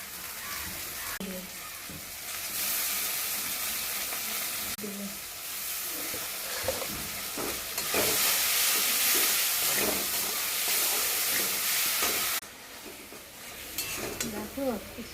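Khaira fish curry with mustard-chili paste bubbles in a pan, a broad steady hiss and sizzle with occasional stirring scrapes that swells for several seconds and then eases, close by, with faint voices in the background.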